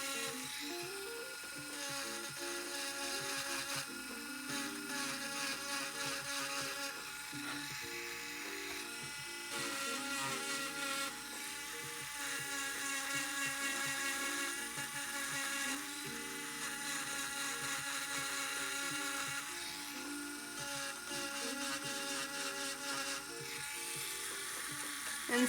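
Dremel rotary tool working lightly over a wood surface, a faint, high, buzzing whine that runs continuously for about twenty-five seconds with slight pulsing variations in pitch.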